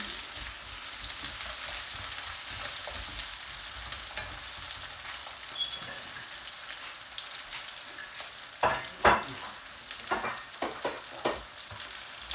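Spices and green chilies crackle and sizzle steadily in a pan over a village cooking fire, with sharper scraping stirs clustering toward the end; no one speaks.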